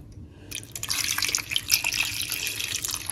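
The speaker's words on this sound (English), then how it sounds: "Add some water," Water splashes steadily into a cooking pot with potatoes after a brief quiet moment, a continuous pouring and trickling sound, close and moderately loud.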